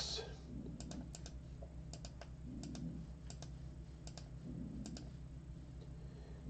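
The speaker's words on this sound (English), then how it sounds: "Going to click nine times." A computer mouse is clicked repeatedly during a baseball card break, producing a run of faint, crisp clicks in small uneven clusters over a steady background hum.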